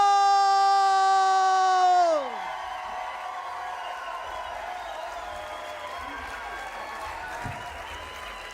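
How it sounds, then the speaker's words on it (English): Studio audience at a live stand-up comedy show claps, whoops and cheers for Producer Paul, the roar swelling after a sustained musical chord fades and carrying on steadily for several seconds. "clap and whoop and cheer and give it up for"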